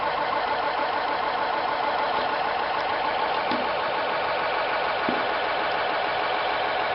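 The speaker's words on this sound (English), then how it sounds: "Here we have utilized a fan with a 5-volt motor." A small 5-volt motor spins a fan on an automatic PLC filling rig, giving a steady, unbroken mid-pitched whir that holds at constant loudness throughout, with a couple of faint clicks and no speech.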